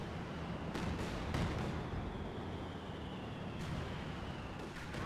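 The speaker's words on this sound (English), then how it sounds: "Barrage coming on in" Artillery barrage in the World War II strategy game Company of Heroes 2: muffled, distant shell impacts thud over a continuous battlefield rumble, with a few sharper blasts standing out.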